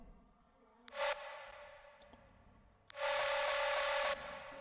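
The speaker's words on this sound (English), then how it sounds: "It's just a Discord sample." A dry Discord notification sample with no reverb sounds twice: a short bright tone, a pause, then a longer ringing tone over faint background hiss.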